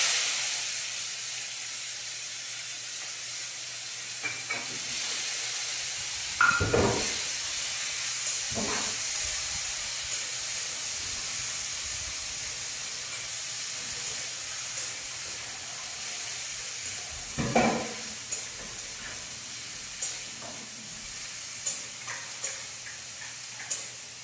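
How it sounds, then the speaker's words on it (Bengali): Chopped onion sizzling in hot oil over a tempering of green chilli, a steady hiss and fizz throughout with a few louder spatters and stirring knocks. "ফোড়ন থেকে সুন্দর গন্ধ বের হলে এবার দিয়ে দিলাম কুচিয়ে রাখা পেঁয়াজ"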